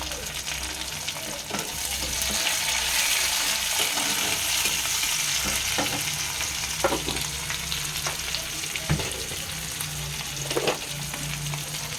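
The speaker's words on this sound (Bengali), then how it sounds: "টমেটো অ্যাড করা হচ্ছে, যেটা কেটে রাখা হয়েছিল।" Chopped tomatoes sizzle and fry steadily in a pan of hot oil for a Bengali Katla fish kalia, with occasional stirring clinks and scrapes over a continuous crackle, close and fairly loud, no talking.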